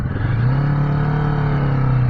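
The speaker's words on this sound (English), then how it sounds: "I think I'm revving it a little bit too much" Kawasaki Vulcan S motorcycle engine on a cold day, a loud, close, steady rumbling drone held at elevated revs without pause.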